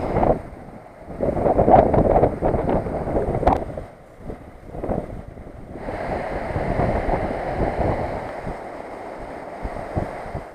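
Strong wind buffets the microphone in loud, uneven gusts with a steady roar underneath, while cycling fast with a tailwind along the clifftops of the Black Sea coast.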